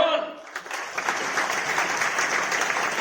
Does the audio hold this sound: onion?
no